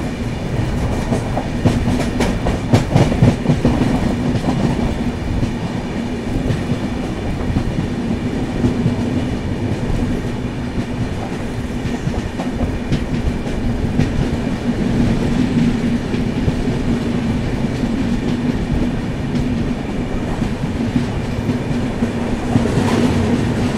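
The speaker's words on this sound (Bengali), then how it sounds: "সামনে আসছে ট্রেন নাম্বার 12506 উত্তর পূর্ব এক্সপ্রেস" Uttar Purva Express 12506, hauled by a WAP-7 electric locomotive, passes close by with steady loud rumble and rhythmic clickety-clack of wheels over rail joints throughout, no voices.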